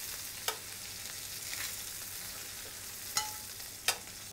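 Chicken pieces frying in a pan and being cooked crisp, with a steady soft sizzle and a few sharp clicks of utensils against the pan, fairly quiet and with no talking.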